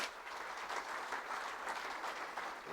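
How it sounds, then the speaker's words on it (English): A dense, steady round of applause from an audience at a young farmers' awards evening, heard as a continuous wash of clapping at moderate distance, fairly quiet, with no voices over it. "Round of applause for the teams."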